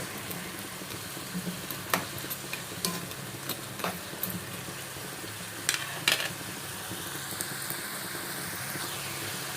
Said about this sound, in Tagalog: Gisa lang natin guys para matanggal yung lansa